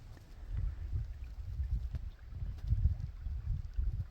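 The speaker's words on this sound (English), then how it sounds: "the wind is blowing this way and I'm going that way" Wind gusts rumble low and steady by a river at Lee's Ferry at night, buffeting the microphone in uneven surges with no speech.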